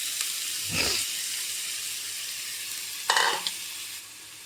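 Clams for kakka fry going into a hot pan of masala, a constant soft hiss and sizzle broken by two brief scraping stirs, the second one louder.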